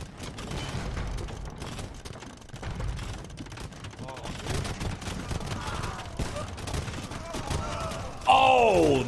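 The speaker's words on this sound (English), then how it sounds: "Oh, the bombard cannon shots though." Bombard cannon shots in a video game battle, heard as repeated heavy booming volleys amid a dense clamour of battle noise, with a commentator talking over part of it.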